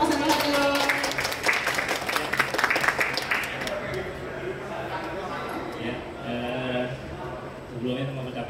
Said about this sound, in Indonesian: Boleh tepuk tangannya untuk Mas Seno Haryo.